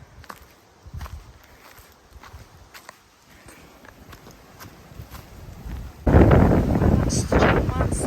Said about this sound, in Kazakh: Үсті жаман салқын жел екен.